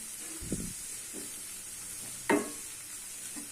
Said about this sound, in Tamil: இது கொஞ்சம் பச்சை வாசனை போக வதக்கலாம்.